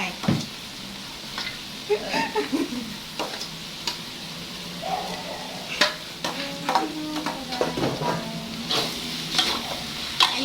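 Vegetables stir-frying in a pan for chicken fried rice, a steady sizzle broken by repeated scraping and clinking of a spatula against the pan, close and moderately loud, with no talking.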